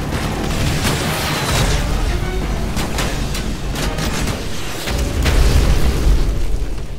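Rocket explosions and battle noise from Call of Duty: Modern Warfare 3 roll on as a dense, loud stream of booms and blasts, with a heavier low rumble near the end and no talking.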